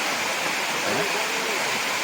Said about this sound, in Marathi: आम्हाला यायचं होतं तिथे धबधबा मोठा धबधबा